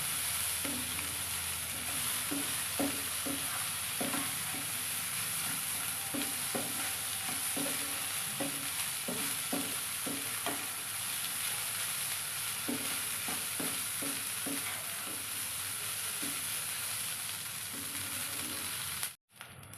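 Leftover cooked rice stirred with fried potatoes in a sizzling pan over lowered heat: a constant frying hiss with repeated scraping taps of a spatula in irregular bursts, no voices.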